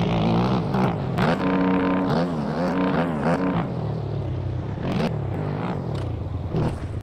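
Dirt bike engine in the MX Bikes video game screams continuously through a supercross lap, its pitch climbing and dropping sharply with each throttle blip and gear change, loud and close with no talking.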